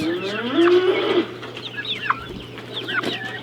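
Chickens clucking and calling near a farm with feather-footed birds, several short squawks and clucks rising over a low steady hum, with a louder sustained call early on.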